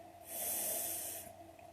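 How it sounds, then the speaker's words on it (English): A single deep inhale taken during a guided breathing exercise, a close, airy rush of breath lasting about a second against a quiet background. "Inhale again."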